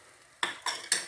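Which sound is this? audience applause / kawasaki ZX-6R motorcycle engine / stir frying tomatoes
stir frying tomatoes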